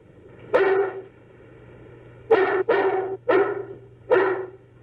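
Dog barking: five sharp, loud barks, one alone followed after a pause by a quick run of four, close by with a low steady hum underneath.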